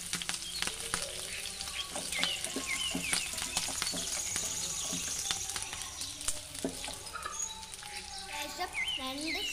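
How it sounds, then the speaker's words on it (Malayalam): Curry leaves and sliced green chillies fry in oil in a pan with a steady broadband sizzle and crackle, scattered sharp pops and spits, and faint bird chirps in the background. "ഇനി കറിവേപ്പില ഇട്ട് കൊടുക്കാം."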